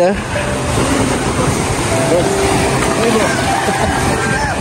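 Powerful sea waves rush and churn in a steady, loud wash close by, while people talk over the noise of the water.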